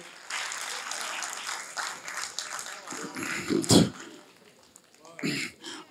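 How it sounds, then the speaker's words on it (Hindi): An audience at an Urdu literary conference at an arts council hall gives a few seconds of moderate applause, which fades as a voice takes over. "उसके लिए भी भरपूर तालियां"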